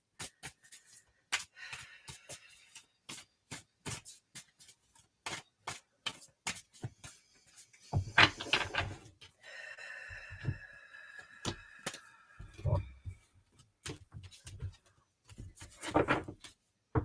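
Tarot cards are shuffled by hand during a live psychic reading, a faint, close series of soft taps, flicks and rustling riffles repeating irregularly with no voices.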